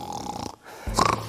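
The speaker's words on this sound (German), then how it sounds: "ich höre eine Frau schnarchen" A woman snoring in bed, a single rough inhaled snore rising after a short pause, close and moderately loud with no talk over it.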